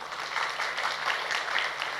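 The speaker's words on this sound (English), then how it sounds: "Please give a big applause for the first round." Audience at an international global health symposium applauds after a panel round, a steady, even wash of clapping filling the hall throughout.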